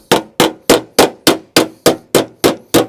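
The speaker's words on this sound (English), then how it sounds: "I hit like a scraping motion like that. You're hitting, but you're pulling downwards." A hammer striking against a dolly while panel beating the body of a 2003 Ford Fiesta Mk5, ten loud, evenly spaced metallic blows, close and alone with no talking.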